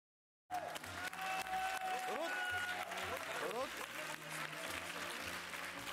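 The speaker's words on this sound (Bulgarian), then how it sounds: "Аплодисменти в нашата студия." Studio audience applause on a Bulgarian TV show, a dense steady clatter of many hands under bright pitched tones and a voice, running loud and sustained from start to finish.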